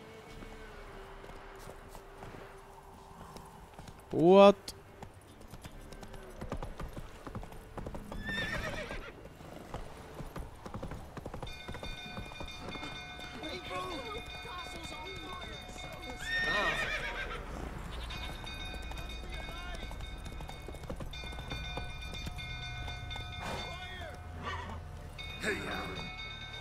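Horses in The Witcher 3 video game neigh with a loud whinny early on and clip-clop through a busy game soundscape, with people talking over much of it.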